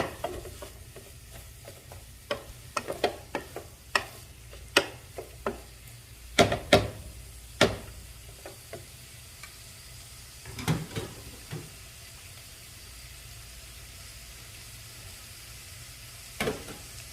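Sliced onions frying in a pan for beef curry, a low steady sizzle broken by irregular clattering stirs of a spoon against the pan, with quieter stretches of frying between bursts.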